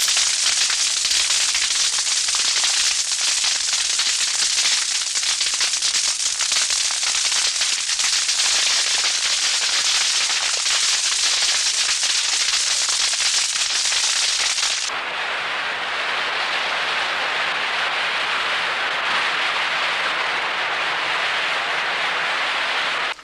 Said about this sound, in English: Burning the cane hasn't changed, and is still the first stage of harvesting.